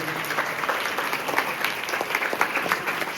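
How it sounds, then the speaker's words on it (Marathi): An audience at a school Shiv Jayanti event claps steadily with dense, even applause that holds at a consistent loudness from start to finish. "कृष्णा सरांसाठी एक जोरदार टाळ्या पण वाजव"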